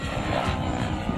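A T-Rex 700 RC helicopter flies at an outdoor Las Vegas fun-fly event, giving off a steady, loud, broad rotor and engine whine with no voices.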